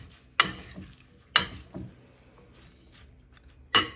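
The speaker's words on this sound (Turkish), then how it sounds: "bir kaşık bir çatalla salatamı iyice karıştırıyorum" A salad tossed thoroughly with a spoon and fork, three sharp clinks of metal against a bowl spaced about a second apart, with soft rustling between them.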